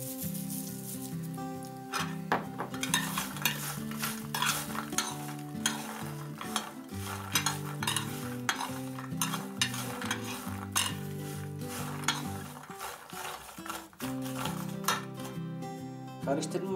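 Roasted peanuts are stirred with salt in a pan, giving dry, rattling scrapes and clinks of utensil on metal with a soft sizzle, repeating irregularly and close throughout.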